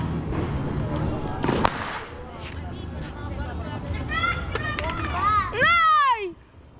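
New Year's Eve fireworks and firecrackers in San Ramon, Baao, Camarines Sur, Philippines pop and whistle at a distance, a sharp bang early and rising whistling shells near the end, under children playing and people talking.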